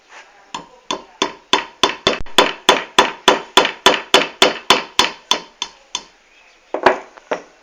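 A hammer drives a nail into concrete through clear tape, striking in a steady run of about twenty sharp, ringing metallic blows that speed up slightly. After a short pause a couple more close, loud hits follow.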